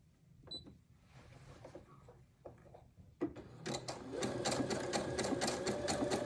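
A Janome sewing machine stitches a Christmas rope bowl and starts up after a few quiet handling clicks. It then runs in a steady, fairly loud mechanical whir close by.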